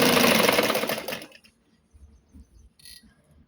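Sewing machine stitching dress pants: a loud, dense mechanical whir runs for just over a second, then cuts off, leaving a few faint soft knocks and a brief click.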